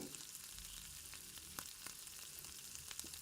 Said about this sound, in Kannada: ಒಂದು ಕುಕ್ಕರಲ್ಲಿ ಸ್ವಲ್ಪ ಎಣ್ಣೆಯನ್ನು ಬಿಸಿ ಮಾಡಿ ಮೊದಲು ಸಾಸಿವೆ